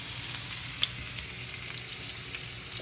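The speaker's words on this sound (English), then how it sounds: "Throw in those sliced onions" Sliced onions go into hot oil and crackle with a steady, close sizzle. No one speaks.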